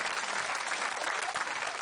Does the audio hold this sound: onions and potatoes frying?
no